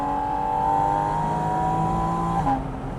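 A Lamborghini Huracán Tecnica accelerates gently, heard from inside as a steady, rising engine drone with clear harmonic tones that shifts briefly near the end, moderately loud with no talking.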